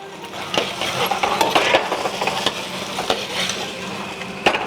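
Vegetables tossed with fried pork in a wok for a Chinese braised pork dish: continuous close sizzling with scraping stirs and sharp metallic clinks of a utensil against the pan, no talk.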